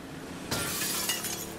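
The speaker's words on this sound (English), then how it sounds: "We just rammed it into the glass." Glass shatters as a boat rams through it in The Last of Us Part 2, a sudden loud crash followed by a second of scattering, tinkling shards.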